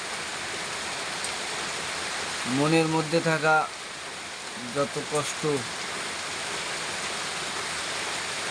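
A steady, heavy downpour of pouring rain hisses evenly throughout, with a person briefly speaking over it twice in the middle.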